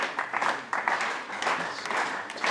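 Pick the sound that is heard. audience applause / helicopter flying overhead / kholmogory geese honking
audience applause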